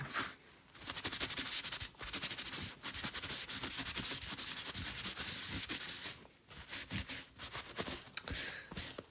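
Chalk rubbed by hand across a wood cutout, with repeated close scratchy strokes that run almost continuously and are broken by a few short pauses.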